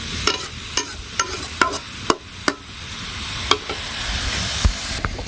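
Pumpkin sautéing in a pan in a village kitchen, a steady close sizzle broken by repeated sharp scrapes and clacks of a spoon stirring at uneven intervals, with no talking.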